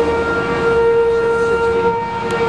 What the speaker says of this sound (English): The radar sirens going off here.